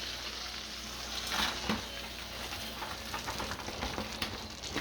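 Tomahawk steak sizzling in a hot pan: a dense, continuous crackling fry with popping spatters and a few louder bursts, close and steady throughout.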